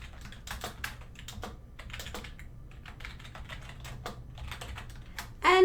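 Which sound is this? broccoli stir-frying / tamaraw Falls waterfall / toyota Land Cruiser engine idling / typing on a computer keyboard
typing on a computer keyboard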